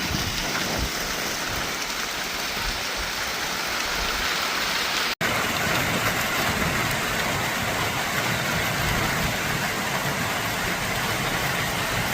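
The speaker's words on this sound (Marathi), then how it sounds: "हे बघा चालू झाला पाऊस आणि आता पवनचक्की पूर्णच गेले बघा वरची." Heavy rain falls steadily near a windmill, a dense, loud, continuous hiss and patter with one sharp click partway through. No one speaks.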